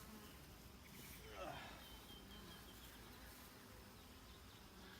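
A soft, steady insect buzz of many honeybees on top of a hive hums quietly close by, with a brief louder pass midway and no talking.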